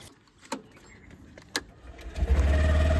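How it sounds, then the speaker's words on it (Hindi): A scooter is started: a couple of sharp clicks, then the engine catches and settles into a loud, steady idle close by. "अब करते हैं गाड़ी को स्टार्ट"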